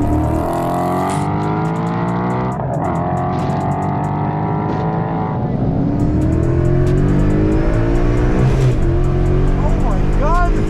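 A loud, newly supercharged car engine revs hard and climbs through the gears close up on a race track, with people talking excitedly over the roar.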